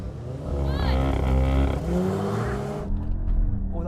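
A BMW X2, an Audi SQ2 and a Volkswagen T-Roc accelerate hard from a standing start in a race, with close, loud engine roars rising in pitch before cutting off, and a voice talking over them.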